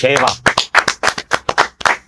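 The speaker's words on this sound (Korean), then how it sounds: "일단 박수부터 치고 갑시다" A few people clap their hands in a quick, uneven burst of about a dozen sharp, close claps, with talking heard in the first moments.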